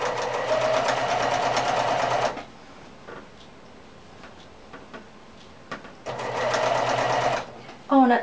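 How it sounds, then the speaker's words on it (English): A sewing machine stitches down quilt binding in two loud, steady runs of rapid needle chatter, broken by a quieter pause with light ticks and handling noises, close up. "I'm going to sew this down"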